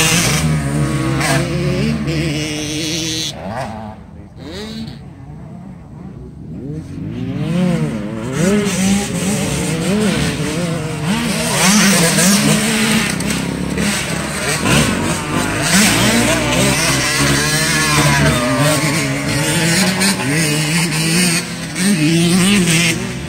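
A motocross dirt bike at a track on a Sunday ride day revs and accelerates loudly for a sustained stretch, with engine pitch rising and falling, briefly easing off before pulling hard again.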